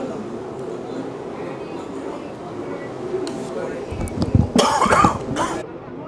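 A commentator covering MotoSurf World Games race heats in Fujairah breaks into a short coughing fit, several loud harsh coughs bunched near the end, above steady event background noise.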